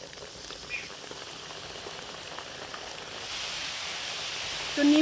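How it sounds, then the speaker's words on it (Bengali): Nimki dough pieces fry in hot oil for a crunchy snack, a fine, steady bubbling crackle that grows louder and denser toward the end; no talk. "তেলটার মধ্যে কিন্তু এবার আমি নিমকিগুলোকে দিয়ে দেবো"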